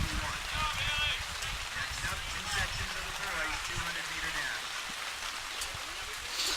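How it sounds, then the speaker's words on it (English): Rain patters onto a tent roof at an outdoor high school track and field championship, a soft, steady wash running the whole time with faint crowd murmur underneath. "we're getting some rain down on our tent"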